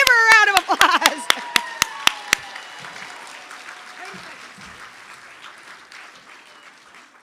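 Applause for an award recipient at a nursing excellence awards ceremony, starting with a few loud, distinct claps and settling into a softer crowd clapping that fades out.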